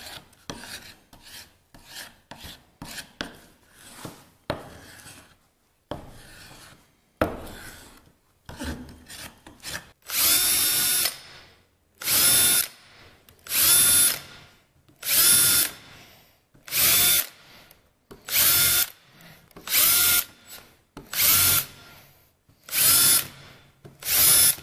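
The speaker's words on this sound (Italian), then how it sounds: "poi dopo noi useremo un trapano per rovinare il legno il più possibile" A power drill grinds and rasps against wood to distress and age it, first in short irregular bursts, then in loud, regular pulses of harsh high-pitched whirring, close up with no talk.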